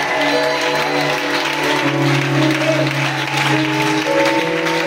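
Sustained applause from a church congregation during a French-language sermon on salvation, a dense steady wash of clapping over a held organ or keyboard chord, loud and continuous throughout.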